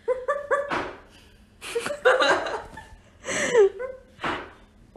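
A person imitates a dog, giving a few quick, voiced barks, followed by laughter and gasping, all close to the listener.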